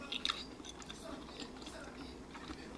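Bacon is chewed close to the microphone during a mukbang meal, soft crunchy and moist bites repeating in quick irregular clicks, faint and intimate.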